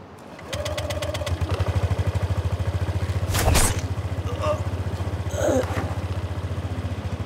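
A small scooter engine runs at a steady idle with a fast, even putter, close and loud, briefly rising once or twice, with a voice speaking over it.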